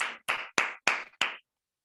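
Five crisp hand claps ring out one after another at a steady pace, close and distinct, then stop abruptly, as an audience at a motivational talk welcomes a speaker.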